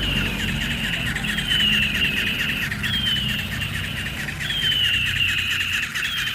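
A battery-powered toy eagle, just switched on, gives repeated electronic bird-call squeals and chirps in sweeping bursts over a steady buzzing hum, loud and close, with no talking.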